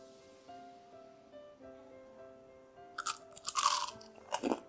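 Crisp bites into freshly fried Maggi noodle pakora, a Ramadan snack, heard as a quiet room tone followed by several loud, close crunches and chewing in short bursts over the last two seconds.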